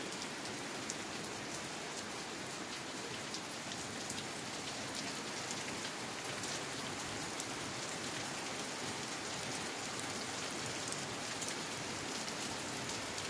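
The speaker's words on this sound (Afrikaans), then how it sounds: "En dis hoe dit hier reën." Steady rain falling on surfaces outdoors, a dense even patter of drops at moderate loudness lasting throughout, with no voices and no thunder.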